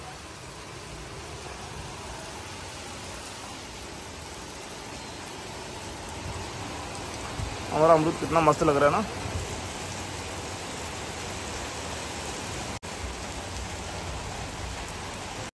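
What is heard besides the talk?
heavy rain falling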